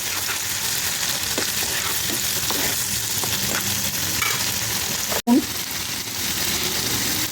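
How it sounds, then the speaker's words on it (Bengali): Chopped onion with ginger, garlic and onion paste sizzles steadily in hot oil while being stirred, a continuous close frying crackle with a brief dropout near the end. "পেঁয়াজ কুচি দিয়ে দিয়েছি, আদা বাটা, রসুন বাটা, পেঁয়াজ বাটা নেড়ে দেবো।"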